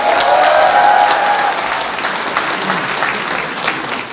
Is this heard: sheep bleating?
no